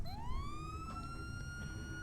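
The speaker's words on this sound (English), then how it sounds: "which is the main siren." Main police siren from the ELS mod in Grand Theft Auto 5, a single electronic wail rising quickly and then holding a steady high tone, fairly quiet and alone.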